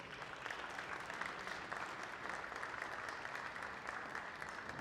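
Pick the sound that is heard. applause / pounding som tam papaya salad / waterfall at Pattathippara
applause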